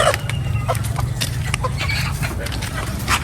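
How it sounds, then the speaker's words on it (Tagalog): Chickens cluck close by, busy overlapping calls and scratching, with a person's voice underneath. "Papakainin natin itong mga manok"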